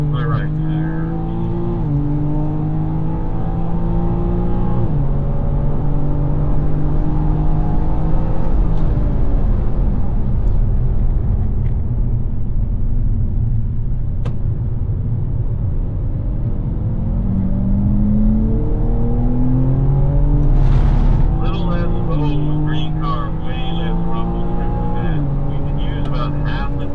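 BMW M4 GT4 race car lapping a circuit, its engine loud and continuous with repeated rising and falling revs through gear changes, while someone talks over it throughout.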